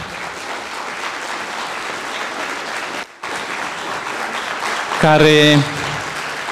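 Sustained audience applause fills a concert hall as a soprano walks onto the stage, steady and dense throughout, with a brief dip near the middle and a short spoken word heard above it near the end.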